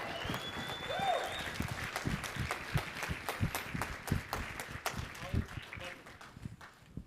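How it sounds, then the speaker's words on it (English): A conference audience claps to welcome a speaker to the stage, with fairly quiet scattered claps that stay uneven and moderately distant, and a few muffled voices come through underneath. "can you join me with a big, big round of applause to welcome Ollie Billson to the stage"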